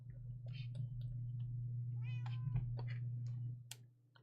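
A cat meows several times in quick succession, close and fairly clear, over a steady low electrical hum, in a home setting with a cat's adventure playground.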